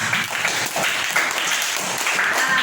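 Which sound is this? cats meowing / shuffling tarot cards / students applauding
students applauding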